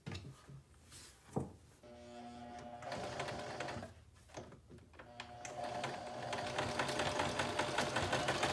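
A sewing machine runs a straight stitch on a T-shirt with rapid mechanical stitching, starting and stopping a few times before settling into a long continuous run, close and clear.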